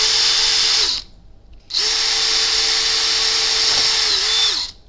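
A power drill fitted with a 3.2 mm bit bores through a vehicle number plate in two sustained, loud, close whining runs with a short pause between them. Each run starts and stops abruptly.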